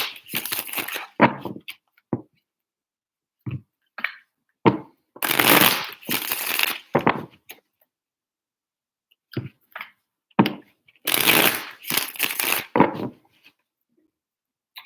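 Tarot cards shuffled by hand in three long riffling bursts, with soft taps and card clicks in the pauses between, close and fairly loud with no talking.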